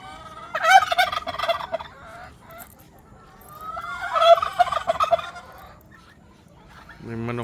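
Geese honk and gabble in two loud, close bursts of rapid calls separated by a quieter pause, out in a farmyard with no talk over them.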